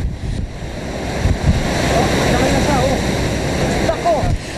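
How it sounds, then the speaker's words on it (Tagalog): Strong storm wind buffets the microphone in a steady, loud rush amid flooding, with surf-like roaring and occasional gusts throughout. "hindi naman kinaya ang nagngangalit na hangin"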